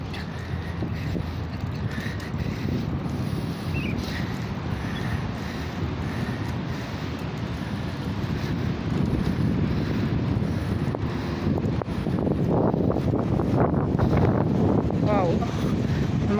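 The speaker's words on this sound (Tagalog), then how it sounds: "Lumakas yung hangin" Strong wind buffets the microphone in a constant low roar, growing rougher toward the end.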